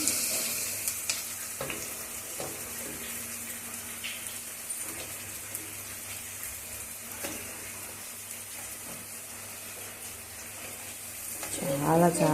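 Chopped onions and green chillies fry in a pan for an arbi root curry, giving a steady, moderate sizzle throughout with occasional stirring scrapes and a louder burst of activity near the end.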